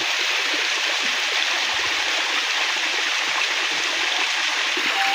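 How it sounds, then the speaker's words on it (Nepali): A waterfall pours steadily alongside flowing stream water near hillside paddy fields, making a constant, close, full rushing roar with no pauses. "यहाँनिर चाहिँ वाटरफल पनि रहेछ है"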